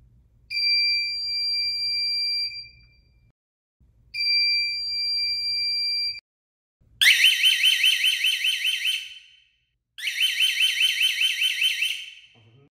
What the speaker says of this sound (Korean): 내장 알람과 옵션 알람 비교입니다.